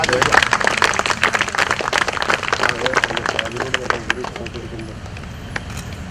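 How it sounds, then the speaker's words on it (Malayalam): Applause from the audience at a Lions Club of Vallikkunnu inauguration and installation ceremony: dense, close clapping that slowly thins and fades, with voices talking over and under it. "തീർച്ചയായിട്ടും നല്ല കൈയടി കൊടുത്തുകൊണ്ട് അദ്ദേഹത്തിനെ ബഹുമാനിക്കാം."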